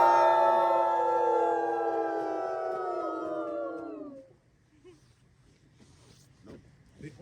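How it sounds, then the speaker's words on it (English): A group of wolves at a wolf conservatory howls together in long, layered, overlapping wails that hold steady for about four seconds, then break off, leaving quiet ambience with a few faint rustles. "Another group howl, but again, no guarantee"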